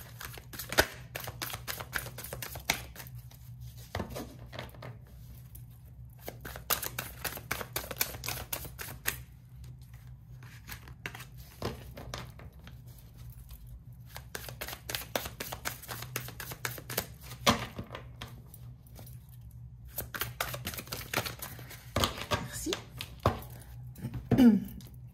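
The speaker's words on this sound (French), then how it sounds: "Allez, je prends 3 cartes." Tarot cards are drawn from a deck and laid down, giving soft papery slides and taps in short bursts separated by pauses. The sounds are faint and close, with a low steady hum beneath them and no talking.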